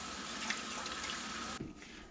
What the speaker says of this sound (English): So I'm pouring hot water in this basin.